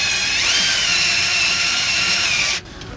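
A power drill spinning a bolt loose on a vehicle's rear gate gives a steady, loud whine that holds for about two and a half seconds before cutting off abruptly.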